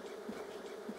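Honeybees hum steadily around an opened hive full of drones, a close, even buzz with small swells, no talk.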